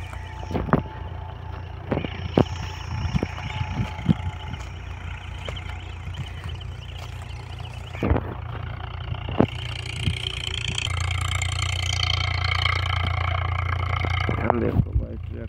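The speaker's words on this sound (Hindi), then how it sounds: "देखो भाई काफी अच्छा काम कर रहा है खेत में।" A Farmtrac 60 tractor works a field with a 10 ft rotavator, its engine a constant low rumble that grows louder and rougher near the end, with intermittent clanks and someone speaking over it.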